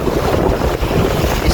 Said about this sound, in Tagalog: Bangkang pangisda.